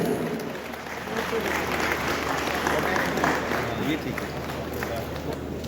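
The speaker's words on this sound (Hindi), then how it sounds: "हम सभी स्टेज पर तो नहीं आ सकते पर जोरदार तालियां जरूर बजा सकते हैं" An audience at an industrial business conclave and foundation day celebration in a hall gives sustained, loud applause, a continuous wash of many hands clapping with a low hum underneath.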